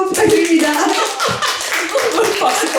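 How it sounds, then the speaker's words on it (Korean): Audience clapping at a talk concert in an independent comics bookshop, a modest group of hands clapping fairly close by, mixed with voices and some shuffling. "잘 어울리신다고 생각하면 박수 한번 부탁드립니다."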